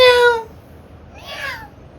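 A person imitates a cat, giving one short, rising-and-falling meow-like cry after a brief voiced sound, fairly close and alone against a quiet background.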